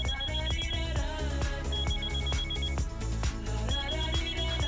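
A phone rings during a call being placed, the ringtone sounding as a busy melodic electronic jingle with a strong rhythmic beat, steady and fairly loud, with no voices.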